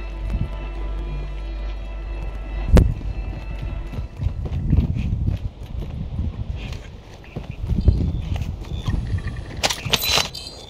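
Footsteps in the video game Call of Duty Modern Warfare 2 (Resurgence mode) thud in irregular rhythmic bursts, with a sharp impact near the start and scattered faint sounds.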